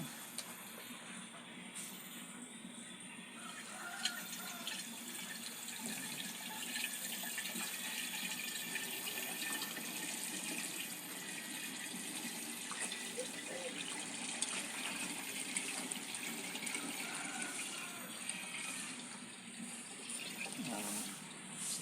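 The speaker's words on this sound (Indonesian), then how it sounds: "E4 dan campuran air gula ini sudah bisa dicampur dengan bahan baku utama. Langsung kita campur" EM4 and sugar-water mix poured into cow urine for making liquid fertilizer, a steady watery gushing and splashing that runs continuously at moderate level throughout.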